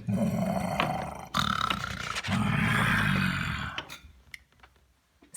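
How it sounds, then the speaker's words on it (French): Deep, rumbling animal roars recorded on a disc play from a phonograph, repeating in long bursts with short breaks between them, then fading into quieter scraping noises. "Sylvain remet le disque sur le phonographe. Les rugissements sont enregistrés sur le disque."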